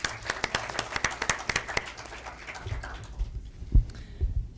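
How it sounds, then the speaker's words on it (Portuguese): Audience applause at a Latin America and Caribbean global affairs panel, a dense run of sharp claps that fades after a few seconds into quiet room noise and low thumps as the speaker is welcomed. "Damos un fuerte aplauso"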